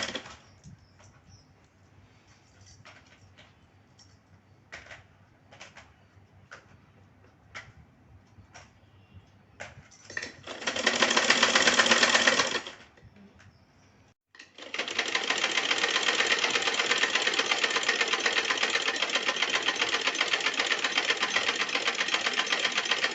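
A sewing machine stitching a double katori blouse part, starting with scattered slow ticks and a short run, then a pause before a long, steady, fast stitching whir up close.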